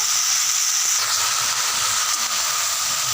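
Onions, garlic, ginger and tomatoes with rock salt sauté in a pan for a Tamil coriander seed chutney, giving a steady, close frying sizzle and hiss that runs throughout with no talking.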